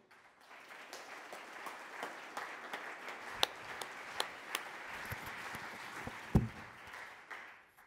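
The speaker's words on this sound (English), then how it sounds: "Roger, this was your applause" Audience applause after a talk at a direct air capture summit, a steady moderate patter of clapping across the room with a few sharper individual claps standing out, faint and somewhat distant.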